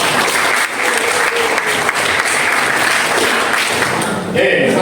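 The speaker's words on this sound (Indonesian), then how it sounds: "Tepuk tangan pada teman-teman." Classroom group applauding fellow participants, loud sustained clapping filling the span with an even dense texture, fading slightly near the end.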